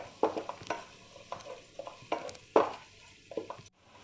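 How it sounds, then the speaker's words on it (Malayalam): Spice powders are sautéed in a pan on a low flame for a chicken biryani, heard as irregular, close scraping stir strokes over a soft, quiet sizzle, with no talk. "എന്നിട്ട് നന്നായിട്ടൊന്ന് വഴറ്റി കൊടുക്കണം. പൊടികളുടെ ആ പച്ചമണം മാറുന്നത് വരെ ലോ ഫ്ലെയിമിൽ നന്നായിട്ട് വഴറ്റിക്കൊണ്ടിരിക്കണം."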